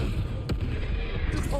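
A Confringo fire spell blasts in the Hogwarts Legacy video game, a sharp burst near the start over steady game ambience and a low rumble, with a voice speaking alongside.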